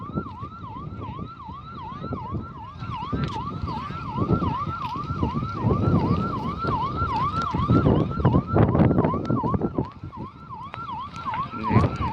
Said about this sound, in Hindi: फायर ब्रिगेड एक आई हुई है